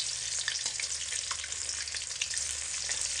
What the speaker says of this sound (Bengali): এখানে কিন্তু বন্ধুরা এই ডিমগুলো ভাজতে খুব বেশি সময় লাগে না, খুব তাড়াতাড়ি ভাজা হয়ে যায়।